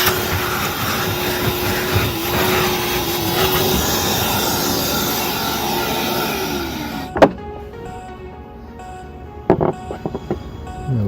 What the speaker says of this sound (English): Good time to vacuum up the shavings before we install the front pieces.